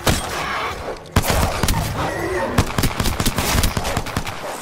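Warning shots from an Apex Legends firefight ring out as sharp, loud gunshot bursts. A heavy crack opens them, then irregular rapid volleys and scattered single shots follow, close and dense over constant battle noise.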